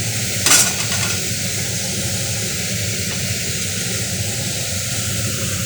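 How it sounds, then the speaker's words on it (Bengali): Fish pieces cook in a curry gravy in a pan with a steady, even bubbling hiss throughout and a brief clink near the start. "দিয়ে দিলাম এই মাছগুলো ঝোলের মধ্যে।"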